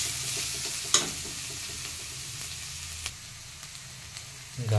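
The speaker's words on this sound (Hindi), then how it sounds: "इसे हम अच्छे से थोड़ी देर के लिए भून लेंगे, 5 मिनट के लिए मीडियम फ्लेम पे, ताकि सॉफ्ट हो जाए।" Finely chopped carrots stir-fry in a pan over a medium flame for fried rice, giving a soft, steady sizzle under occasional scraping and clinks of a spatula against the pan.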